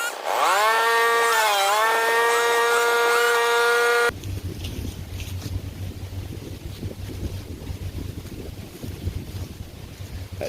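A chainsaw with a loose chain whines loudly at high pitch, revving up and down for several seconds, then cuts off to a low hum and wind noise.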